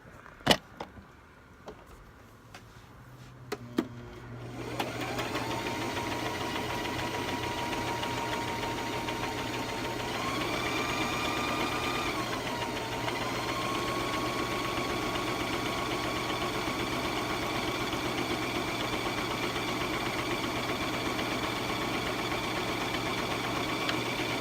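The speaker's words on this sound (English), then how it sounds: "So this is what it looks like after it's placed in my machine. And I'll just sew all along this line right here." A sewing machine runs a long seam on fabric for a scrunchie after a few clicks of setup, a steady close motor hum with rising and settling tone, alone without talk.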